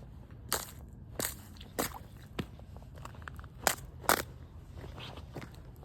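Boots crunch across icy ground outdoors in cold weather, a handful of sharp, irregular crackling steps spaced a second or so apart over a quiet background.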